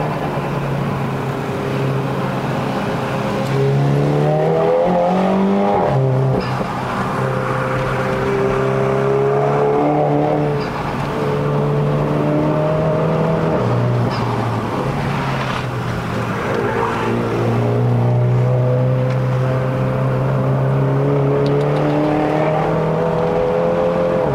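A tuned MINI John Cooper Works F56 hatchback with 291 whp and 500 Nm climbs a mountain road in Malaysia, its engine droning loud and close throughout, revs rising and falling through gear changes with no break.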